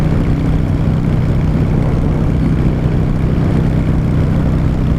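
A motorcycle engine drones steadily while riding on the road, a constant low rumble with wind noise and no talk, heard from the rider's position on the way to bike night.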